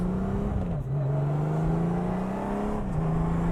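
Honda Goldwing touring motorcycle, 125 horsepower, droning steadily on an open ride with a sustained engine tone that dips and climbs as the throttle shifts, loud and continuous with no talk over it.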